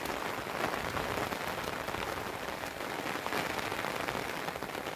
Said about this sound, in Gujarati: કેવો વરસાદ વરસે છે.